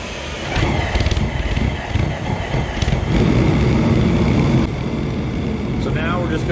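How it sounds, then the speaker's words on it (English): An internal premix gas burner is lit with a torch, giving a loud, steady roaring rush that swells as more gas is added and runs throughout with no breaks. "I'm gonna take my torch and I'm gonna kind of aim it down inside of the burner there a little bit. I'm gonna add some gas."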